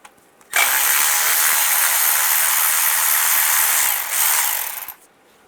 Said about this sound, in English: I'm gonna use a 10mm socket, take this bolt out right here